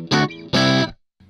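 An electric guitar played through a Zoom G3Xn multi-effects processor with a rack compressor switched on rings out two loud, driven, distorted chords, then a faint short tail after a gap.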